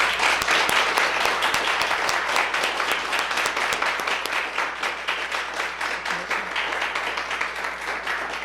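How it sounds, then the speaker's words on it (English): An audience at a foster care caregivers awards celebration claps together, loud crisp hand claps in a dense continuous stream that tapers slightly toward the end. "and clap."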